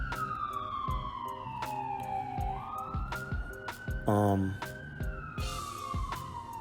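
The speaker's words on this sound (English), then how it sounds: "These sirens are killing me." A police siren wails, rising and falling in long sweeps, with sharp clicks and background noise underneath.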